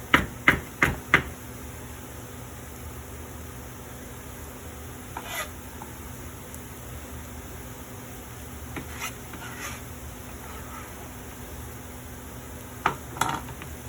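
Spinach, kale and feta filling for spanakopita being stirred in a bowl in a home kitchen: a few sharp knocks at the start, then a soft, steady mixing hush with occasional faint scrapes and clinks.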